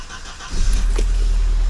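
A small used car at a dealership, one that once had water leak inside, cranks and starts promptly, then settles into a loud, steady engine rumble close by with no talking.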